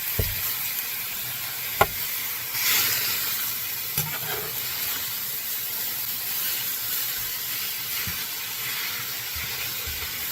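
Ground meat browns in a cast iron skillet for lasagna, giving a steady soft sizzle and hiss with a few sharp clicks of a metal utensil scraping and breaking up the meat, no voices.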